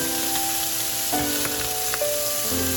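Sausage pieces, snow peas and baby carrots stir-frying in a pan, a continuous close sizzle with faint tonal hums and occasional stirring scrapes, no talking.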